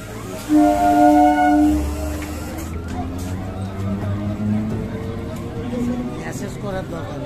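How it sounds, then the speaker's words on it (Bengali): A Bongaon–Sealdah line commuter train rolls past a crowded platform with a steady low rumble and a brief horn-like tone early on. Voices and crowd talk run throughout. "ট্রেনটা চলে যাচ্ছে শিয়ালদা, বনগাঁ থেকে শিয়ালদা লাইন।"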